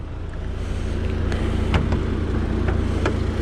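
A 2006 Audi TT Roadster's 1.8T turbocharged engine idles steadily with the hood open, a close, even low rumble with faint ticking and no speech.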